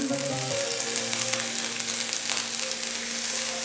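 Batter sizzles steadily in a hot buttered pan, a close, continuous crackle with faint kitchen hum beneath.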